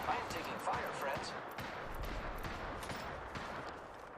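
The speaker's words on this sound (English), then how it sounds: "They're shooting at me. I am taking fire, friends." Gunfire crackles in a shooter video game, a series of scattered sharp shots over busy game noise, with someone talking over it.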